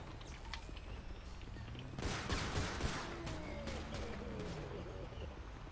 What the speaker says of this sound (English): We got shots fired, suspect down.